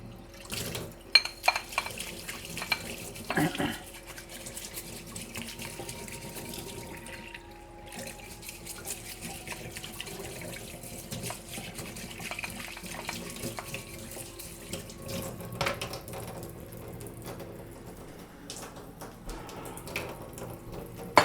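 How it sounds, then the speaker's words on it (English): Dishes rinsed under a running kitchen water tap, with a steady close stream of water and occasional clinks of crockery throughout, no talking. "Just some rinsing. Just have to make sure, you know, all the stuff doesn't stick to the dishes."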